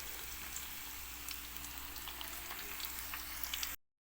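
Cauliflower pieces fry in a medium amount of oil in a pan, a steady, faint crackling sizzle with tiny pops that runs without pause, then cuts off abruptly.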